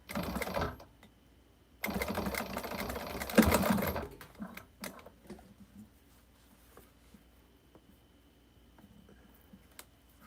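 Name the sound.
sewing machine running while sewing a quilt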